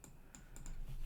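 A few quick, soft keystrokes tap out a password on a computer keyboard, four faint clicks in about a second over low background hum.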